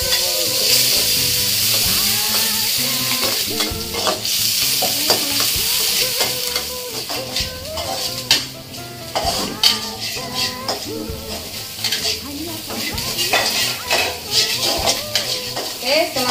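Spice paste stir-fried in hot oil in a pan for Indonesian tumis genjer, with a steady loud sizzle and repeated scraping and clinking of a utensil against the pan throughout.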